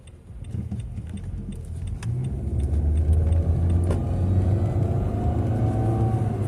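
Road traffic heard from inside a moving car: a steady low rumble of engine and road noise, with a few light rattles and no talking.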